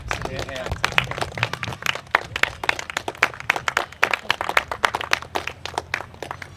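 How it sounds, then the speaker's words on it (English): Outdoor crowd at Kohima gives a sustained round of clapping for trekking guides after a 39-hour walk from Jessami, dense close hand claps throughout with some voices underneath. "can I just ask actually for a round of applause, please, for them"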